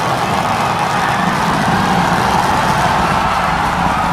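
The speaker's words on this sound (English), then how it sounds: "Booster coming in. Get ready for that boom, Kate." A Starship Super Heavy booster fires its rocket engines during the landing burn as it is caught at the tower, heard from a distance as a continuous deep rumbling roar, steady and broad, with no talking.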